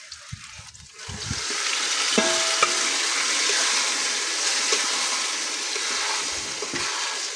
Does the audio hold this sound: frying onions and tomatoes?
yes